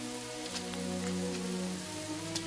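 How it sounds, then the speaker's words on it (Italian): Steady, dense rain falling and pattering on surfaces, a continuous wash with faint individual drop hits throughout, no voices. "Se solo smettesse di piovere."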